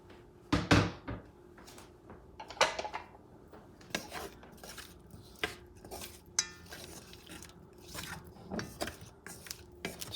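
Clattering kitchen sounds as salchichon sausage goes into a pot to sear for a Puerto Rican sausage soup, with scattered knocks and clinks of cookware, moderately close and without talk.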